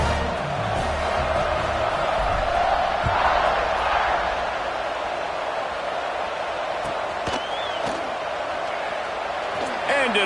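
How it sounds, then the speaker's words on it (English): A stadium crowd roars in a college football video game, a broad steady wash of noise that continues throughout while a commentator talks over it. "this crowd is buzzing after that last score"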